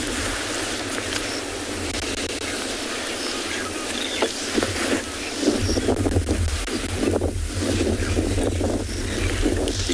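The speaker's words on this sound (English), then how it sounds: "Hear the wind" Strong wind on a sunset safari at Tswalu, South Africa, buffets the microphone with a constant roaring rush, growing gustier and louder partway through, with no voices.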